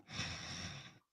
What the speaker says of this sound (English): We can hear you breathing in the fucking microphone.